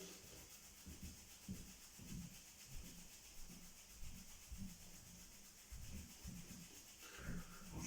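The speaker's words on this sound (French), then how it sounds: "on va frotter le visage de manière dynamique, comme pour le réveiller. On frotte tout le visage comme si on voulait le laver" Hands rub briskly over the face during a Do-In self-massage, making soft, rhythmic rustling strokes about twice a second, faint and close, with no speech.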